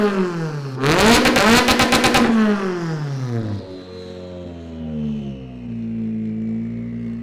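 Ken Block's RX63 rallycross car engine revving hard, a loud sharp burst of throttle rising then falling away into a lower idling drone, no voices.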